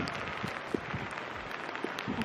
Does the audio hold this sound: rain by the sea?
yes